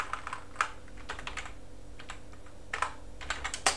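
Fingers tap out a command on a computer keyboard in quick irregular bursts of crisp key clicks, close and fairly quiet, with short pauses between groups.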